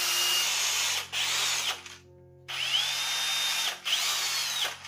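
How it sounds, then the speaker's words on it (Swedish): A power drill whines loudly near a backpacking check valve, running in long bursts with a brief pause and a rising-then-steady motor pitch as it bores through. "Jag börjar borra där då."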